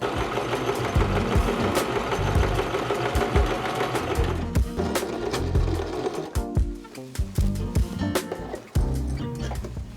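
A sewing machine stitches a Renaissance faire dog costume, running in steady continuous bursts close to the microphone, the needle rattling loudly with short pauses and restarts through the second half.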